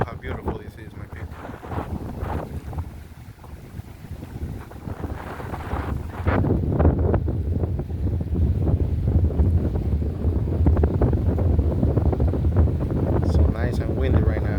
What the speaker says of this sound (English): So nice and windy right now.